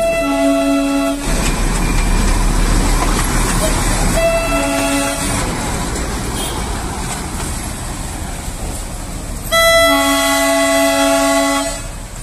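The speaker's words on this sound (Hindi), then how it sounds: "जैसे आप लोगों ने देखा, निकलते ही मेरे को टॉय ट्रेन दिखाई दिया" The Darjeeling toy train passing nearby: loud rumbling wheels with three toots of its horn, at the start, around the middle and near the end. Some voices are faintly present amid the noise.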